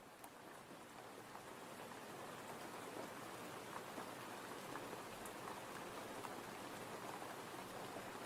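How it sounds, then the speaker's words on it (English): Steady rain falling outdoors, a constant faint hiss of drops on surfaces with occasional slightly louder splats, even and unbroken throughout. "Who knew we got rain?"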